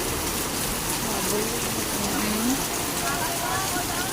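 Steady heavy rain pours down in a dense, continuous hiss close by, with a faint voice murmuring underneath.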